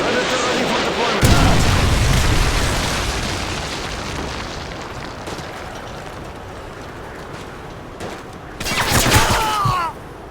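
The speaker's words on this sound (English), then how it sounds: "Friendly Predator missile inbound." A Predator missile explosion in the video game Modern Warfare 2 lands as a loud boom followed by a long rumbling roar, then a second burst of blasts near the end, with voices over it.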